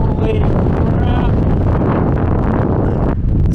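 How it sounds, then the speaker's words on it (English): Strong wind gusts roar across an exposed mountain trail near Old Twin Peaks, a loud, constant rushing buffet battering the microphone with no let-up. "The wind appears to be getting worse."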